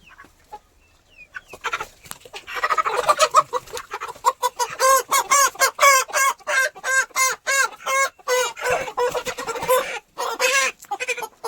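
A rooster and a hen cluck and squawk loudly and rapidly in close, agitated bursts while being caught by hand, with flapping and scuffling throughout.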